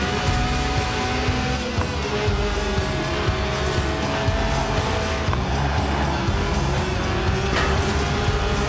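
A Lotus Elise with a 1.8-litre engine in the video game Forza Horizon 4 revs hard and steadily, a loud sustained engine drone with shifting pitch and tyre squeal mixed in, continuous throughout with no voices.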